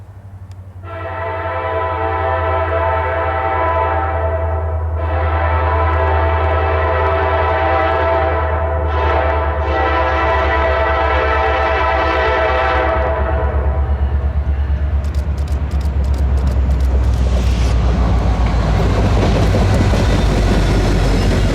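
Southbound freight train at Ellis Run on the Norfolk & Western Roanoke District, its horn sounding in several long blasts over a deep locomotive rumble, then wheels clattering loudly and steadily as the cars roll close by.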